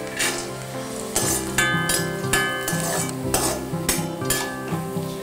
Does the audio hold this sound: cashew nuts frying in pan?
yes